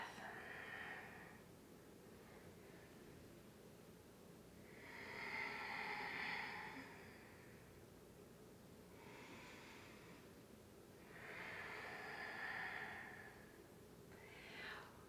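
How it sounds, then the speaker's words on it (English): Slow, deep breathing during yoga pranayama, three long audible breath cycles evenly spaced several seconds apart, soft and close against a quiet room. "Listen to the sound of your breath."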